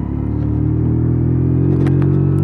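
Small 50cc WK Scrambler motorcycle engine droning steadily as the bike rides through town at about 30 mph, loud, close and continuous with a low buzzing harmonic tone.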